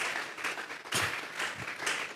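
A congregation claps during a Sunday church service, a fairly faint burst of applause that rises and falls in several uneven swells, with no talk over it.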